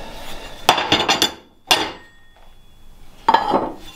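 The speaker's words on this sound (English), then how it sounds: "then I can bend it over using a hammer and brute force" Sharp metallic hammer blows ring out as metal is bent over for a PAK 43 gun traversing base, a quick cluster of strikes followed by two separate single hits with quiet gaps between.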